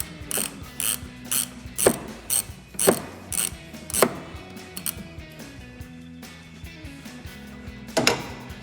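A hand ratchet clicks in repeated bursts while backing out the top headlight screw on a 2007-2014 Chevrolet Silverado 2500 pickup, each stroke giving a close, crisp run of pawl clicks with short pauses between.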